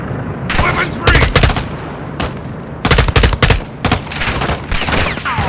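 Gunfire in the video game Modern Warfare 2: loud, close bursts of automatic weapon fire come in several rapid clusters, separated by short lulls filled with quieter rattling shots.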